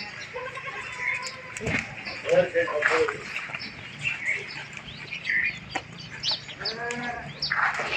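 Local desi goats and their crossbred kids bleat nearby, including the higher cries of the young kids, mixed with talking, birds chirping and farmyard background noise.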